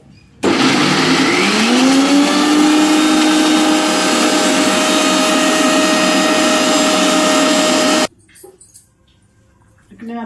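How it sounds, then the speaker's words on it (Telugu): A kitchen mixer grinder spins up and grinds with a loud, steady motor whine for about seven and a half seconds, then stops abruptly, leaving near silence. No one speaks. "మిక్సీ సెట్ చేసుకొని మిక్సీ పెట్టుకోవాలండి"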